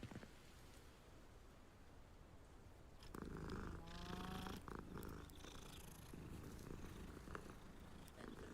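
Purring from a cat in Hogwarts Legacy, a soft, continuous rumbling purr that swells a little partway through under a light rain-like hiss, close and gentle.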